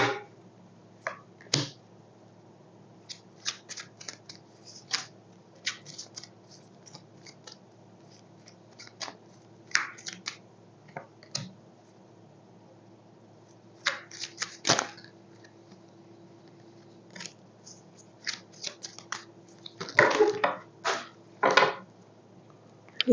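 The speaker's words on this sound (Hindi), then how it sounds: "कार्ड सारा गिर रहा है" Tarot cards fall and get shuffled, heard as sharp, scattered papery snaps and flicks at irregular intervals, with a denser flurry of shuffling toward the end, close and crisp against near silence.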